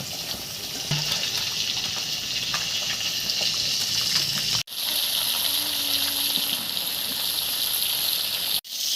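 Tap water gushes steadily over green bananas being rinsed, a close, continuous splashing stream broken by two brief pauses.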